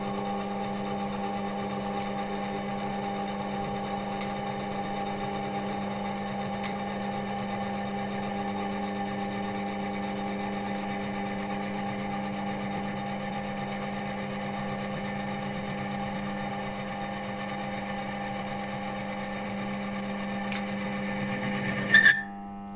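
An oil friction test machine runs a hot roller under load with a steady, even mechanical whine and hum that holds unchanged, then ends with a brief sharp click.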